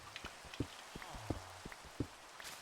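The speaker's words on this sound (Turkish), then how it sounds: "Yağmur ne zaman duracak yani." Rain falling in a Minecraft Skyblock world, a steady soft patter under a series of sharp, evenly spaced clicks and taps from in-game actions.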